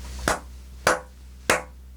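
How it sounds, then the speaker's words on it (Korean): Three sharp, separate hand claps, spaced evenly about half a second apart, each standing alone against near silence. "재판부의 이 결정에 박수를 보냅니다"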